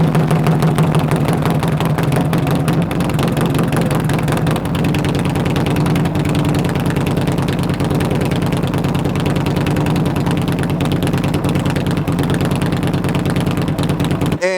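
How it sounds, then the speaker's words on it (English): A Harley-Davidson Road King motorcycle idling through loud exhaust pipes: a close, continuous, heavy rumbling lope that stays steady until it cuts off abruptly at the very end. "these pipes are freaking loud, just loud"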